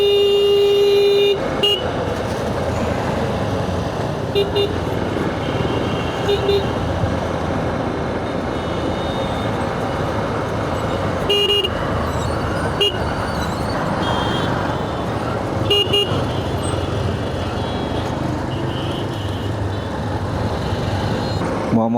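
Road traffic around a motorbike on a freshly smoothed street, with a CNG auto-rickshaw close behind: a steady engine and road rumble runs throughout, broken by several short horn toots. Someone talks over the noise.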